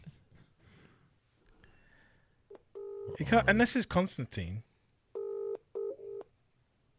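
Telephone keypad dialing tones during a podcast phone call, with a few single beeps, then a burst of quick talk and laughter, followed by three clear tone presses.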